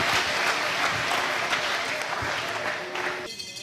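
A church congregation bursts into sustained, dense applause that carries steadily for several seconds before tapering off slightly at the end, with faint voices mixed in beneath the clapping.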